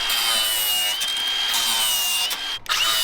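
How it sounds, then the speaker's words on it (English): An angle grinder cuts through transmission cooler lines on a 4x4 overland build, a loud, steady high-pitched whine that runs without a break for about three seconds and dips briefly near the end. "now I'll grab the grinder and I'll go beat to the transmission cooler lines"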